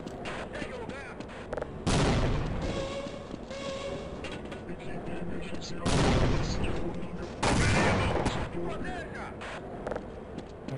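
Grenade blasts and gunfire burst out in a Half-Life firefight, three heavy explosions spaced a few seconds apart over scattered shots, with a voice exclaiming in between.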